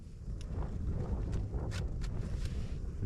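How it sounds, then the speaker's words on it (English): Steady wind buffets the microphone on a breezy remote Northumberland hilltop at a camping spot, a constant loud rushing roar with a few brief higher gusty swells and no voices. "It's a little bit breezy up here."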